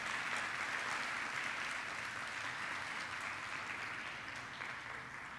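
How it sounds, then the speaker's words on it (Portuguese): A church congregation applauds during a sermon, making a continuous, fairly soft, even wash of clapping that tapers slightly toward the end. "Dá um aplauso a Ele, bem forte."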